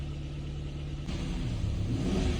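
A Kia Ceed engine with fault code P0172 idles for about a second, then is revved, the rumble swelling louder but sounding strained and hesitant rather than climbing cleanly.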